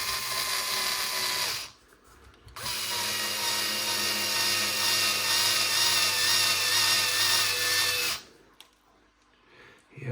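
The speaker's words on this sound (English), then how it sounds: "Yeah, I think the old drill's getting a bit flat." An old power drill with a flat battery whines in two long, steady runs during a radio-controlled DR10m car build, with a brief gap between runs and a quiet pause after them.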